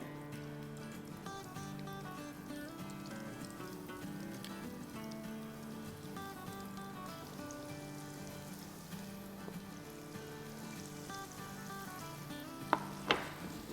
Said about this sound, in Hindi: सेम इसको भी 3 मिनट के आसपास फ्राई कर लेंगे।